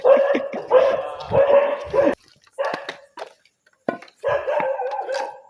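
Dogs bark in a series of close, loud bursts with short yips in between, separated by brief silences.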